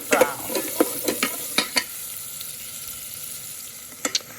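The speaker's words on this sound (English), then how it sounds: "Saute it for about a minute or so till they become golden" Onions sautéing in a pan for lauki (ghiya) soup, with a soft background sizzle broken by sharp scrapes and taps of a stirring spoon. The taps are clustered early, then the pan settles into a quiet fry before two final knocks.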